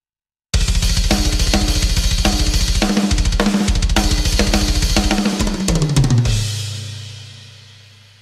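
Programmed GGD Invasion drum groove with slightly randomized hi-hat: a steady, loud, dense beat with rapid hi-hat ticks over punchy kick and snare hits, ending in a fill that rings out into a decaying cymbal wash.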